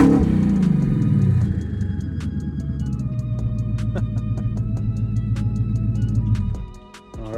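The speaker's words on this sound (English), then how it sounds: "one last rev with the dumps" A Gen 3 Coyote car with an AWE Track catback exhaust and its dumps open revs loudly up close, a deep rumbling blip that builds and holds steady for several seconds before dropping away abruptly near the end.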